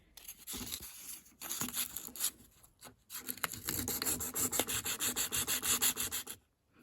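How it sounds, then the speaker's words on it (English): P600 wet and dry paper rubs surface rust off a metal part of a 1950s knitting machine, brisk back-and-forth scrubbing strokes in uneven bursts that settle into a quick steady rhythm, close up and alone. "after giving it a good clean with the wet and dry paper"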